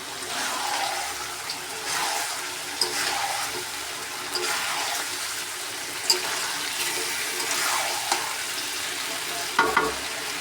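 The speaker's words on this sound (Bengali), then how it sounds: "আর অল্প অল্প করে সবগুলোকে ভেজে নিব এইভাবেই" Bitter gourd and chicken pieces fry in a pan for a steady sizzle, with scattered clinks and scrapes of stirring throughout and no talk.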